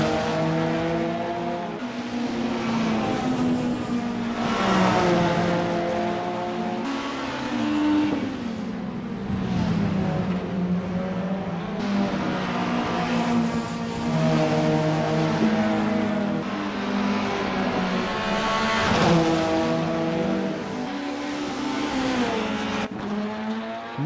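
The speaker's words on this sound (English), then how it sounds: "Norden is on their out lap, warming up the tires and getting ready to put in a fast lap time." A 1990s BTCC-style touring race car in VRC Super Tourer drones steadily on an out lap at Autodromo Buenos Aires, its engine note climbing and dropping through gear changes, loud and close with no voices.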